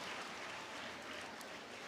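An audience at a school public speaking competition applauds to welcome the head of the Nepali department, a faint but continuous wash of clapping that holds evenly throughout.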